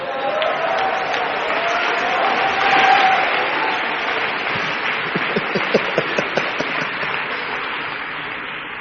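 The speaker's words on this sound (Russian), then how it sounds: "Дай аплодисменты Иисусу" Congregation applauding in a church service, sustained and dense clapping from a large crowd that swells slightly midway and continues throughout, with crowd noise beneath and some sharper individual claps toward the end.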